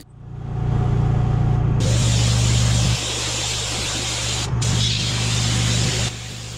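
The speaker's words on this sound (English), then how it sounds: "and then pressure wash them" A loud pressure washer hisses steadily at close range over a low motor drone as it cleans rubber car floor mats, with short breaks where the spray pauses.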